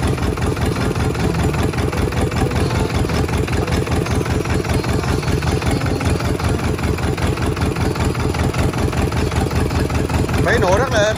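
A Yanmar 2LM two-cylinder 24 hp diesel engine idles with a steady, even, rapid knocking chug that stays close and loud throughout, with no talking.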